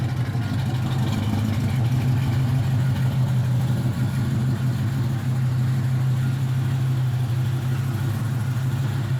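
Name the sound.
1980 Camaro Z28 engine idling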